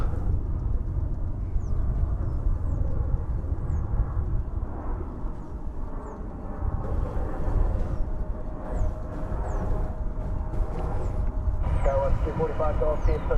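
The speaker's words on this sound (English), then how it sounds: "the plane that's about to land here is" Passenger airplane on approach to land at DFW Airport, a steady broad roar of jet engines with a low rumble throughout, fairly constant in loudness, with a faint higher whine near the end.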